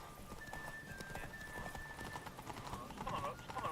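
Roach the horse galloping in The Witcher 3, rapid rhythmic hoofbeats clip-clopping continuously with a brief whinny, under a quiet voice and faint game music.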